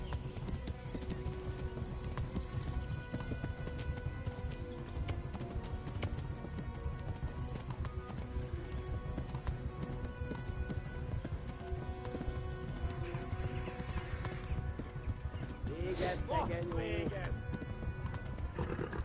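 Horse hooves gallop in a steady, continuous clip-clop while riding through the medieval open world of Kingdom Come, close and constant with a brief whinny near the end, no speech over it.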